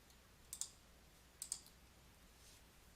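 Two quick pairs of sharp computer mouse clicks, about a second apart, crisp and close in an otherwise quiet room with faint background hiss.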